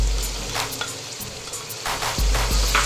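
Ginger, garlic and onion paste sizzles in a pan for a Chanay Koftay dish, a close, continuous frying crackle with soft scraping as it is stirred.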